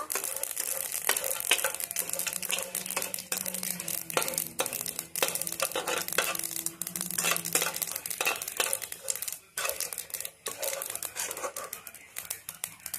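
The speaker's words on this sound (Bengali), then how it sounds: "কাজুটা লাল লাল করে ভেজে নেব" Cashews frying in oil over a low-medium gas flame, heard as a continuous crackling sizzle with dense clicks and rustling stirs, close and fairly loud throughout.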